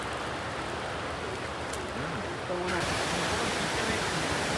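Constant rushing water from a waterfall in a Sri Lankan village roars nearby, a broad steady hiss that grows slightly louder partway through, with faint indistinct sounds underneath.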